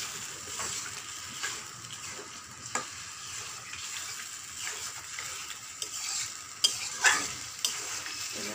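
Spiced potato and pointed gourd fry in a pan with a steady sizzle, while a spatula stirs and scrapes in irregular strokes, with occasional louder clinks against the metal.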